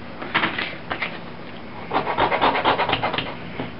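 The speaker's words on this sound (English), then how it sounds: "I'm using the sandpaper to round out the corner edge" Sandpaper rubbing and rasping along the corner edge of a leather tool sheath, rounding it off in short strokes, with a quieter start and then a denser, rhythmic run of close scrapes.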